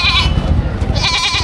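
A goat at a busy livestock trading market lets out a loud, wavering bleat, then a second one, over steady crowd noise.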